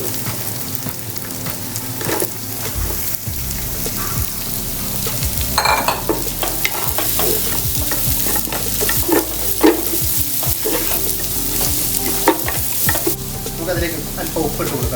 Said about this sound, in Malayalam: അതിലേക്ക് നമുക്ക് നമ്മുടെ അരിഞ്ഞു വെച്ചിരിക്കുന്ന സവാള ഇട്ട് കൊടുക്കാം.